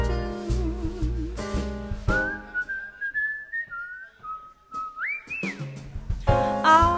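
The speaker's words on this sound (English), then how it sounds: "I'd whistle a little tune" A clear whistled melody carries a tune over a small jazz band, with sustained gliding notes between full instrumental passages at the start and end.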